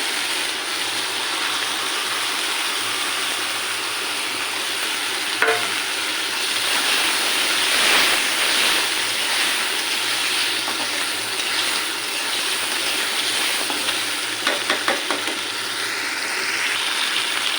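Gochi fish fries in a pan of cooked spice paste, giving a continuous loud sizzle with scraping stirs and a few sharp crackles, with no voices.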